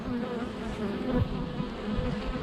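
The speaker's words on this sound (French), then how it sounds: "elle se bat avec l'abeille" Bees at a beehive apiary hum in a dense, continuous buzz that fills the clip, close and steady, with an individual bee circling nearby and no talk.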